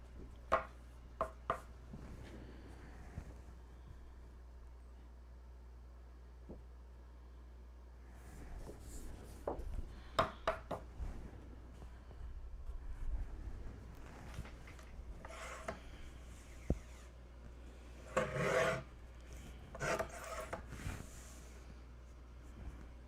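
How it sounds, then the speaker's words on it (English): Paper for scrapbooking is chopped with a paper trimmer in a series of sharp, irregular slicing clacks and rasping swipes, close but slightly off to the side, with quiet gaps between bursts. "Okay, I'm gonna just do some chopping over here off camera. Some paper chopping."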